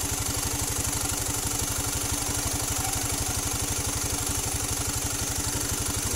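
A Honda Beat PGM-FI injected scooter engine with a hesitation fault runs up close, a fast, steady mechanical pulsing with a whiny, clattery edge, loud and even throughout with no clear rise in pitch.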